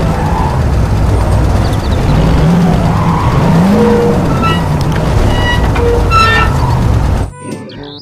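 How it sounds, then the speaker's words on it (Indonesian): Toy McQueen race car making a loud, continuous revving engine sound with rising and falling tones and tire-squeal effects, cutting off abruptly near the end. "Yang ini ada mobil balap McQueen."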